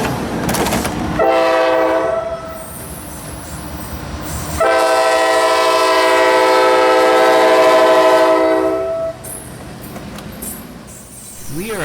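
A Norfolk Southern intermodal freight train, NS 210, pulls into Simpson Yard in Jacksonville, Florida, sounding two loud long horn blasts over rumbling rail noise close by.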